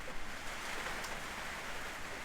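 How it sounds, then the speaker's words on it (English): Rain falling steadily outside near a Nissan Navara D21 4x4, a soft, faint continuous hiss with no other distinct sounds. "you hear the rain?"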